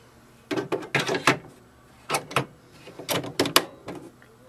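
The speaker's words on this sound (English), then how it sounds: "You will hear a lock sound." Plastic clicks and sliding rattles from an ink cartridge being pushed and locked into an HP Envy Photo 6220 printer, a close, irregular series of short knocks.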